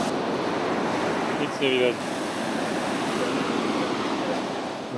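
Ocean surf rolls onto a beach at night beside a parked camper van on an island, a steady, soft wash of waves under a brief burst of quiet talk.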